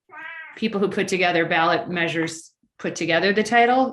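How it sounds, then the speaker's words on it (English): A house cat meows loudly and close, a long drawn-out ornery cry followed by a second meow after a brief pause, heard over a person speaking during a city council meeting. "Sorry about the cat."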